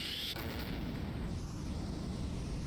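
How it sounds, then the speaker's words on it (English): Flashbang grenade blast in the VR game Boneworks, a loud booming burst that trails into a sustained roaring, ringing wash. "Flashbang."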